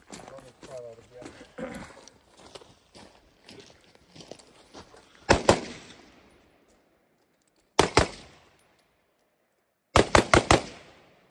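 Gunshots fired during a close-quarters room-entry drill with team door work: after a stretch of talk, three separate groups of sharp, loud reports ring out, a burst of two, a single shot, then a rapid burst of about four, each standing alone.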